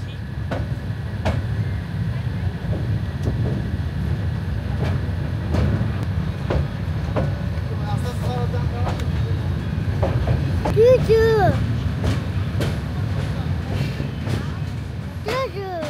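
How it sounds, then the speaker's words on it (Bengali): Train creeping slowly across the Kalurghat bridge over the Karnaphuli river, steady low rumble with sharp clanks and metallic squeals over the span, close and continuous with faint voices in the background. "এবার আমাদের ট্রেন চলেছে কর্ণফুলী নদীর উপর নির্মিত কালুরঘাট সেতুর উপর দিয়ে"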